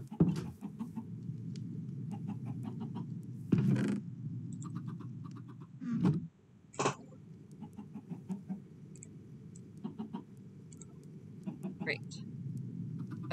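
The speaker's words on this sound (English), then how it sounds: "The chickens. Chickens." Chickens in Minecraft cluck at a low level over a steady background hum, with a few louder bursts and scattered short notes spread across the stretch.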